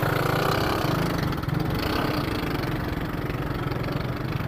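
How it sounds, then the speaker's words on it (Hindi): A motorbike engine, just push-started at a border crossing, runs with a steady low chugging idle, loud and continuous throughout. "अच्छा, तो एक बंदा जो है वो पहले उसको धक्का दिया है, फिर वो जाके चली है उसकी बाइक"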